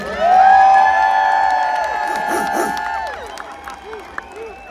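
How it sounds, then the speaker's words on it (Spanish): A crowd at an outdoor Pride concert in Long Beach claps and cheers, a broad sustained roar that swells early and slowly thins. Sustained sung or shouted voices ride over it, with talk near the end. "Un aplauso para mi amigo, el traductor."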